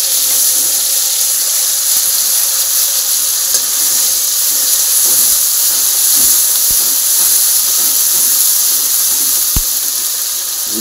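Spice paste frying in a pan gives a loud, steady hiss that runs unbroken from start to finish, with a few faint clicks and ticks beneath it and no voices.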